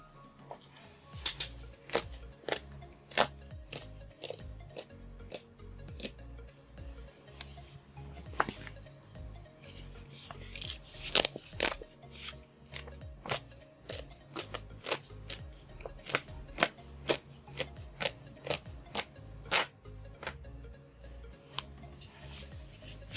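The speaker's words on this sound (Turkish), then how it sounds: "Şimdi zarfı birlikte açalım." A paper envelope holding a Google AdSense PIN letter is opened by hand, with repeated close crinkles, tears and sharp rustling clicks spread evenly over a quiet room, and no speech.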